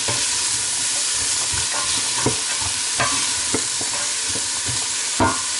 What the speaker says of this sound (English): we're just going to give that a stir and let that cook down